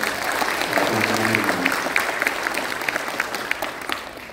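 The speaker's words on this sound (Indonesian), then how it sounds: "Tepuk tangan ya." Audience applause at a political speech, dense steady clapping filling the room, with a faint voice briefly heard underneath.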